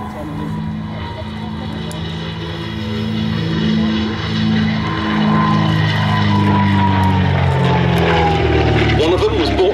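A de Havilland DH-88 propeller aircraft drones loudly and steadily at an air display at Duxford, its engine tone holding and swelling slightly as it passes.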